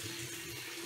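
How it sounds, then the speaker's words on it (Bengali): Water pours into a pan of ash gourd and chickpeas, a brief, steady splashing rush heard close and alone. "ছোলা চাল কুমড়োটা ভালো করে কষা কষা হয়ে গেলে এবারে আমি একটু জল ঢেলে দেবো।"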